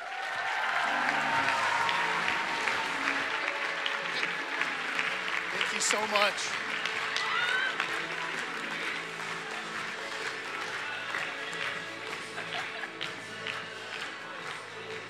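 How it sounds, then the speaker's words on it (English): Audience applause at a pro-life summit welcomes a guest speaker, a dense sustained clapping that fills the room and gradually thins, with the speaker's voice thanking the crowd over it. "Give him a round of applause."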